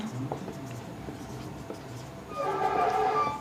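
Chalk or marker writing on a board during a maths lecture on determinants, heard as faint scratchy strokes under room hum, followed by a louder rubbing squeak near the end.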